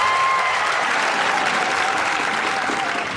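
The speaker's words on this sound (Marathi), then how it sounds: "जोरदार टाळ्या उद्याच्या आपल्या शिक्षकांसाठी आपल्या मायबापांसाठी आणि संस्थेच्या संचालकांसाठी" A large audience claps loudly and continuously at a live competitive-exam guidance lecture, a dense, sustained wave of applause that carries from start to finish.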